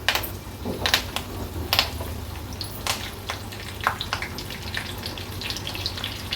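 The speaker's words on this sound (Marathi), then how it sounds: "राई जिरं थोडं तडतडलं" Mustard and cumin seeds crackle and pop in hot oil with irregular sharp snaps over a steady low hum, close by and fairly loud.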